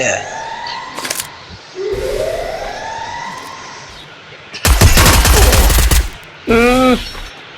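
Bursts of Free Fire gunfire, a loud rapid volley in the middle and a short burst near the end, with sirens sweeping in the background.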